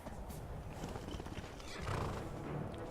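Horse neighing and clip-clopping in the video game Beyond Skyrim, a faint continuous whinny and hoof sound heard throughout the clip.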